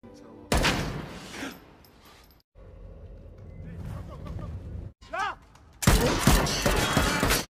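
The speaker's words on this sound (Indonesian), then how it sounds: "tiba-tiba Mukhtar ditembak pasukan Kruger yang telah mengepung lokasi itu" A burst of gunfire in an action film scene as soldiers open fire on a man at a surrounded location, loud bursts at start and end with a brief voice in between.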